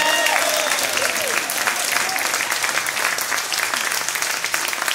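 A concert audience at a tribute show in Capinghem applauds the guitarist and singer with dense, steady clapping that fills the whole stretch, loud and close, with a few cheers mixed in.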